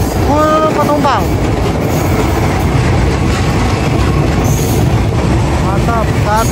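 An airport rail link train on the Solo–Jogja line runs loudly along the tracks, a continuous close rumble and roar with recurring high wheel squeals and screeches riding over it.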